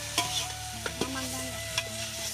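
Onions frying in a pan for village-style biryani give a steady close sizzle, broken by several sharp scrapes and clacks of stirring, with no one talking.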